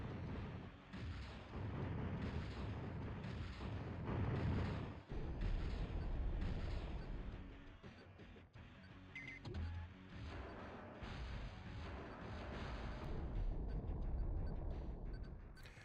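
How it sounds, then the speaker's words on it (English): Weapons being test-fired in a video game, a dense run of booming artillery-like blasts and gunfire that keeps going almost without pause for the whole stretch, loud and steady. "Practice firing the different weapons."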